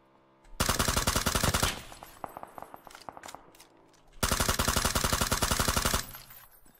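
Automatic gunfire in PUBG, two long loud sustained bursts with scattered single shots between them.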